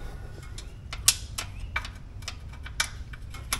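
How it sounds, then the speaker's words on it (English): Faint, sparse metallic clicks and ticks come from loosening the rear differential drain bolt with a five millimetre Allen key on a 2022 Can-Am Renegade or Outlander ATV, set against a low steady background hum. "to unscrew it, I'm just gonna use one of these just for a little bit of leverage."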